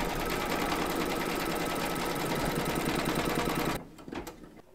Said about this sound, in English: Load your thread colour for the quilting of this area here into your machine, and then stitch round number 6